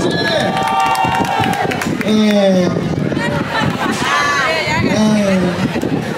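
A crowd at a pool party aboard the Carnival Conquest cruise ship cheers for a team, loud crowd noise and shouting close by, with voices and whoops on top.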